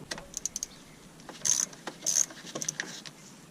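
A socket wrench ratchets while loosening bolts on a car engine near the dipstick, giving short bursts of close metallic clicking with small clinks and pauses between them and no speech.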